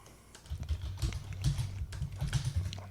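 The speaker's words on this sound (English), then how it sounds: "listeners can enjoy the sounds of the clickety-clack of our keyboards" Computer keyboards click and clack in rapid irregular bursts of keystrokes during a podcast recording, heard alone without talk.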